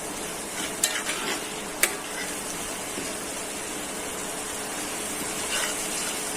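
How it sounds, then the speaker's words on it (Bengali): Spices for a pabda fish curry sizzle steadily in a hot pan while being stirred, a continuous close frying hiss with a couple of sharp scraping clicks from the utensil. "ভালো করে মশলাটা কষানো হয়ে যায়"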